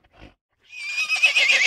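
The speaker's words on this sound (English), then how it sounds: "Horse." A horse whinnies loudly, a high quavering neigh rising and trembling for over a second, preceded by a brief soft thump.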